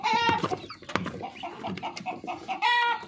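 A rooster and hens cluck loudly and close by in a farmyard coop where small chicks are kept, giving repeated sharp, throaty calls in quick succession.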